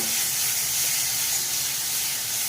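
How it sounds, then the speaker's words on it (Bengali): Onion spice paste for a fish onion curry sizzles while being fried in a pan, a continuous close hiss that stays steady throughout with no talk. "মশলাটাকে খুব ভালো করে কষিয়ে নেব"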